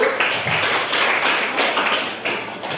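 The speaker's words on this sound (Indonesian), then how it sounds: "Tepuk tangan untuk kelompok 1." Brief applause from a classroom group for the first presenting team, a short burst of scattered hand claps close by that swells and fades over a few seconds.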